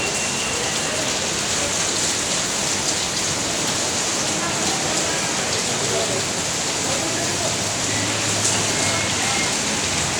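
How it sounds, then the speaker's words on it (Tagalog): Heavy rain pours in a dense, constant hiss and patter, loud and close, with faint voices mixed under the downpour. "Yan, sobrang lakas ng ulan"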